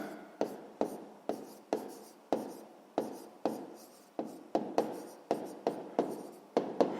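A pen writes on paper while working a sixth-grade math exercise, a close run of quick scratching strokes, each starting sharply and trailing off, repeating in an uneven rhythm.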